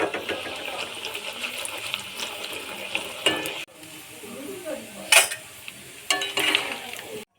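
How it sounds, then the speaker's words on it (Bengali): Flattened rice (chira) frying in hot oil in a kadai on a gas stove, a steady close sizzle with sharper bursts and stirring scrapes, then quieter crackling. "প্রথমে চিঁড়েগুলো ভেজে নেব"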